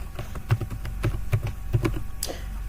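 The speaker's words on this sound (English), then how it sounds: "now I'm going to type in a password" Keys clack on a computer keyboard as a password is typed, a quiet, uneven run of close taps with short pauses and no talk.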